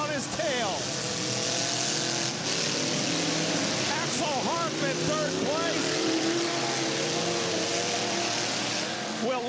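Race cars roar steadily around a figure-eight track at a dirt track event, engines droning and swelling as they pass and cross, loud and continuous under a commentator's running play-by-play.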